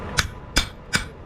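Four evenly spaced, sharp hammer blows ring out up close as a rasp is forged into a tomahawk, each a bright metallic strike about a third of a second apart.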